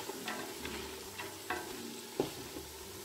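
Chicken with chopped leek, carrot, celery and green onion stirred in a pan: a handful of sharp utensil taps and scrapes over a quiet, low sizzle.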